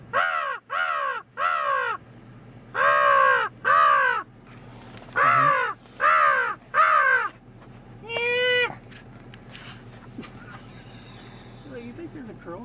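A crow caws loudly and close in a repeated series of harsh, evenly spaced calls, one to three at a time, with brief pauses between groups. Near the end a different, higher call is heard, followed by faint background noise and low voices.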